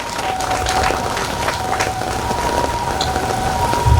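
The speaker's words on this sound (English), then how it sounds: "You deserve a very big clap" Audience clapping at a certification event for traditional medicine practitioners, a brief dense patter of applause, fairly loud and continuous over the short stretch.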